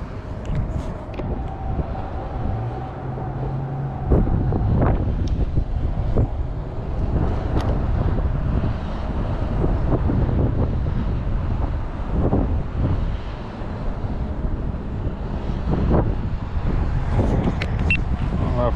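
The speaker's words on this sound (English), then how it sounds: "It's gotten windy, it's overcast." Steady wind blows by a river on an overcast day during a fishing trip, a constant loud rush with microphone buffeting throughout, mixed with low rumble and occasional knocks and faint handling sounds.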